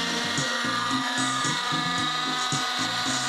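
A gas-powered Nexus RC helicopter with a socket head flies nearby, its engine giving a loud, steady buzzing drone with a rhythmic rotor chop pulsing underneath throughout.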